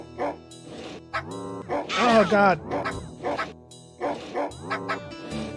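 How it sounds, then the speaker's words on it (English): Dogs in The Outfoxies arcade game bark and yip repeatedly in quick bursts, sharp and close, with whimpering tones, while a man briefly exclaims over them. "They sick the dogs on us."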